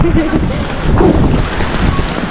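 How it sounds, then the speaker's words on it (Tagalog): Strong gusting typhoon wind roars steadily into the microphone, a dense low rumble with rain-like hiss layered over it throughout. "kahapon pa walang tigil ang ulan at ang lakas-lakas ng hangin"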